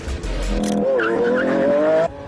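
A Lamborghini Aventador LP 700-4 in Corsa track mode accelerates hard, its engine note rising steadily with a brief tire squeal at the start, loud and close, then cutting off abruptly.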